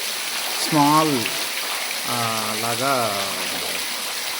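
Seepage water drips and patters steadily inside a rock cave in China, a continuous rain-like hiss that runs under someone speaking briefly.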